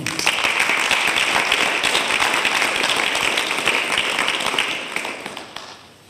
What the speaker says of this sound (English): Please join me in a round of applause thanking them for their service.